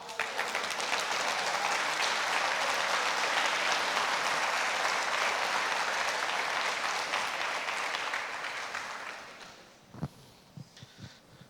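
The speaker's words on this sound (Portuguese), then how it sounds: "Você pode aplaudir o Senhor." A church congregation standing and applauding keeps up dense, steady clapping for about nine seconds before it fades out, leaving a few scattered thuds.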